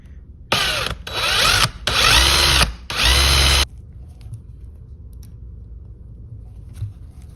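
A power drill with a 1/4 inch bit bores during a Mopar A-body steering column install, four loud close bursts of whirring with brief pauses, then quiet workshop room tone.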